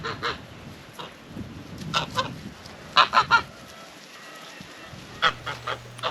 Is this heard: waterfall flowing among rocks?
no